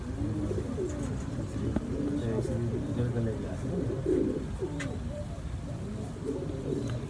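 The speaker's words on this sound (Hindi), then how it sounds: "ये मेरे सलारी कबूतर टेडी क्रॉस भी" Salari pigeons of the Teddy cross type coo repeatedly on a rooftop loft, a low steady rolling murmur from several birds close by, with a voice talking faintly underneath.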